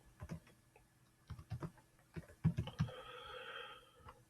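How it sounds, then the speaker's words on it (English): Typing on a computer keyboard, close and quiet, in irregular bursts of clustered keystrokes with short pauses between them, and a faint steady hum underneath; no one speaks. "let me type it."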